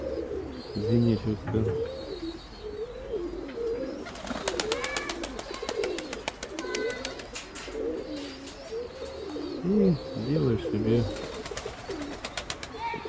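Several pigeons coo in a busy dovecote, their throaty calls repeating and overlapping throughout at close range, with wing flutters and someone talking over them.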